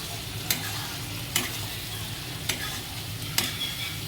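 Chicken pieces for Manchurian sizzle softly in a pan, a quiet, even frying hiss broken by four sharp scraping stirs spaced about a second apart.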